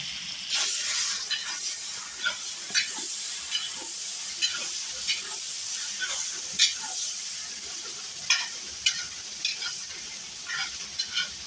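Plov ingredients frying in a pot for an Uzbek devzira rice dish, giving a continuous close sizzle with bright scraping stir strokes every second or so, no talk over it.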